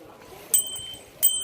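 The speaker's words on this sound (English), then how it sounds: "Ring your bell." Bicycle bell in Leuven rung twice, two short bright dings a little over half a second apart, ringing out clearly over faint background noise.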